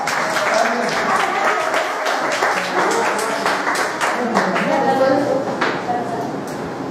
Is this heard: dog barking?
no